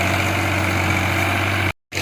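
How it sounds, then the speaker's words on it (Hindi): A tractor engine works while plowing village farmland, running as a loud, steady low drone with a constant hum. The sound cuts out briefly near the end and then resumes. "तो ये रहा हमारा ट्रैक्टर जो आप देख रहे हैं काम कर रहा है ज़मीनों में।"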